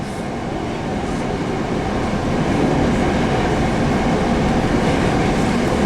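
A passenger car rides behind an EMD F40 diesel locomotive on South Coast Rail, giving a loud, continuous rolling rumble of wheels on track that swells slightly, with no talking.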